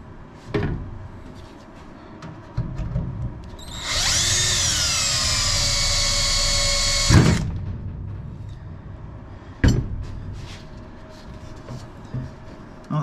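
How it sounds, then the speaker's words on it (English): Power drill boring out bad rivets on a Bearhawk aircraft build, a steady whine of about three seconds that ends abruptly, with sharp clicks and clatter of tools before and after. "You have to drill a little bit more."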